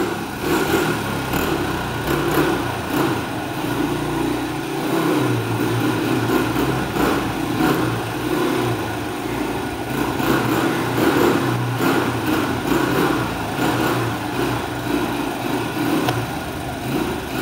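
A motorcycle engine runs continuously inside a house with a buzzy, revving drone, loud and close, echoing slightly in the enclosed space.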